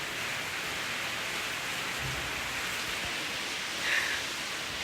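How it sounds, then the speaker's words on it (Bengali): Heavy rain falling outside, a steady even hiss of downpour throughout at moderate level, with no voices over it. "কি দারুণ বৃষ্টি হচ্ছে বাইরে"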